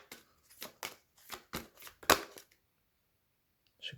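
Tarot cards are shuffled for a reading in a quiet room: a run of quick, soft riffling bursts, then a sharper snap, a pause and one last brief rustle.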